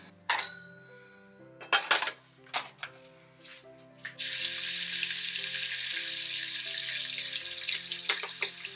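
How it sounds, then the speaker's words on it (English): Shrimp stir-frying in a pan: a few clattering knocks at first, then a loud, steady sizzle that holds without a break to the end. "I have the shrimp that I'll stir fry first"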